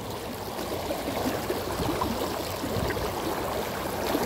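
Strong river current rushing steadily, a continuous close wash of flowing and gurgling water with no voices.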